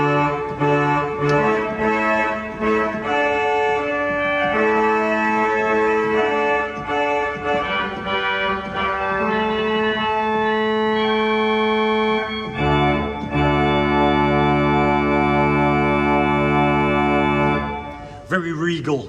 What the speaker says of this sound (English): Finally, on the grate, we have a trumpet, which is obviously a reed.